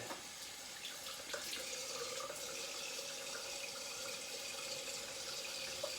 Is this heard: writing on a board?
no